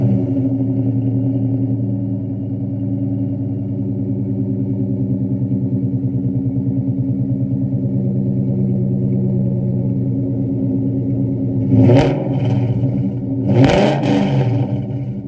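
A Coyote V8-swapped New Edge Mustang with a MagnaFlow exhaust idles loud and steady with a deep rumbling burble, then blips its throttle in two sharp revs near the end.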